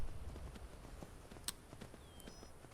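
Horse hooves clip-clop in an even walking rhythm in Skyrim, fairly close but soft, with one sharp brighter knock and a faint high whistle-like tone near the end.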